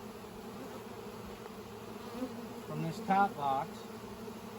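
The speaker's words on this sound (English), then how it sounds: "I shook a lot of bees in here." A steady drone of honeybees hums from a nuc box as a beekeeper shakes them in, buzzing close and continuous, with a short spoken remark part way through.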